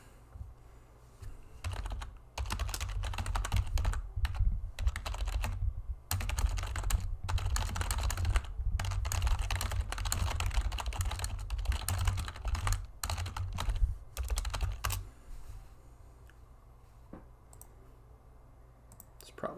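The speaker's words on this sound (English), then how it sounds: "Sorry for the typing." Fast clicking on a computer keyboard during an online game session, close and crisp, in irregular bursts of keystrokes lasting over ten seconds with a low hum underneath, then going quiet.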